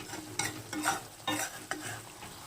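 Stuffed eggplant curry being stirred in a pan after cooking covered, with several quick scraping and squelching strokes of a spoon over a faint sizzle, close and without speech.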